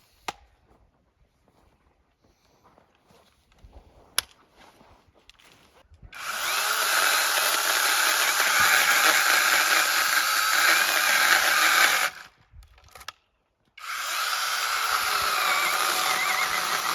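A saw cuts through a tree branch during invasive-species clearing, a loud steady buzzing cut running for about six seconds, a short pause, then cutting resuming.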